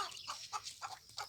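A backyard chicken hen with two chicks clucking on a farm during the São João festival, four short rhythmic clucks close by and clear, with no talking.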